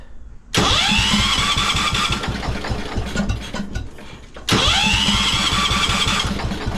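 A 1973 Wheel Horse tractor engine that is out of gas, cranked twice by the starter, each attempt a loud rapid rhythmic churning with a rising whine that grinds on for seconds without catching.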